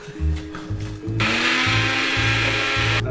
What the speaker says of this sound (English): you put it on the blender.